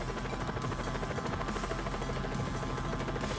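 Helicopter flying in the video game Just Cause 4, its steady rotor thrum and buzzing whine held constant and loud throughout, with no speech.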